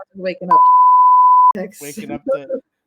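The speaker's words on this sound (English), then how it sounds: "I'll have to edit the beep sound in" A steady one-second censor bleep tone cuts across conversation, with people talking before and after it.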